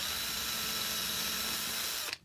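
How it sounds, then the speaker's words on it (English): Power drill boring through two pieces of plywood clamped tightly together while making sound frets for grandfather clocks, a steady continuous whine held close and loud for about two seconds before it cuts off sharply. "When you start drilling the holes, you need to push the two pieces of plywood together tightly"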